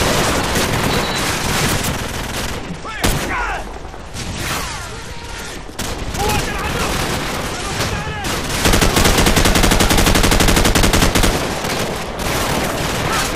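Dense, loud gunfire in Call of Duty 4: Modern Warfare, rapid automatic bursts and single shots nearly nonstop throughout, with brief lulls and heavy sharp cracks crowding the mix.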